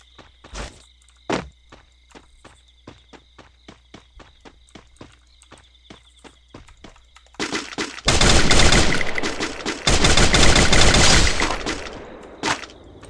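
Rapid bursts of Free Fire video game gunfire: scattered single shots, then a long loud stretch of continuous automatic fire that fades out with a final shot.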